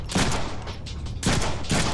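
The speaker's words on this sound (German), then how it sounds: "Ein Schuss vielleicht, genau zwischen die Augen." Gunfire in the Deadpool video game, a burst of loud, sharp blasts with heavy low rumble, arriving in three close clusters over two seconds.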